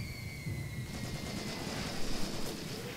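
Gunfire and shelling in Graviteam Tactics: Mius Front, a dense rumbling battle soundscape with continuous distant rattling shots and low booms, faint and steady with no standout single blast.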